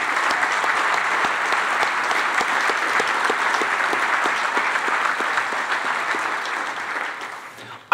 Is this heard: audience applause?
yes